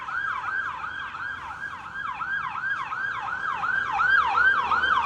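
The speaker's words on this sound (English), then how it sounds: "here comes a siren. Hold on, hold your ears." An emergency vehicle siren wails in a steady repeating rise-and-fall pattern as it passes along a small-town main street, growing slightly louder toward the end, with road traffic noise underneath.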